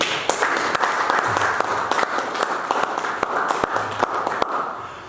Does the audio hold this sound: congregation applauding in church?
yes